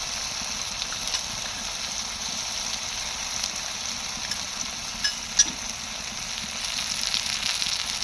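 Onion frying in oil until reddish-brown, making a steady hissing sizzle with faint stirring and a couple of soft knocks.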